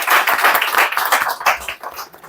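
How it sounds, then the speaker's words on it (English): An audience at an academy's lecture celebration claps to honour trainees, producing a lively patter of individual hand claps with uneven rhythm, fairly close and loud, with no speech over it. "I request each and everyone to please give them a loud round of applause."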